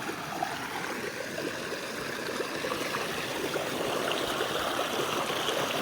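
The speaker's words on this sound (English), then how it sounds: "Nice to parallel this creek for a little while." A creek runs through a mountain valley along a long-distance trail, giving a steady, fairly close rush and babble of flowing water with fine gurgling texture throughout, no voices.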